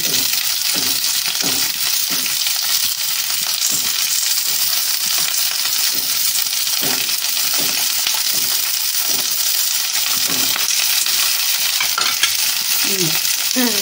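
Onion, garlic and crushed green chillies frying in a pan for a Bengali bean mash, a loud continuous sizzle with frequent rhythmic scraping stirs throughout.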